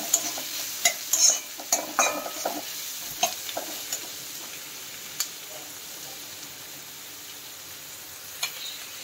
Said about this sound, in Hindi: ये 2 मीडियम साइज के प्याज हैं जिसको मैंने छोटा छोटा कट कर लिया है। इसको थोड़ा हल्का फ्राई होने देंगे।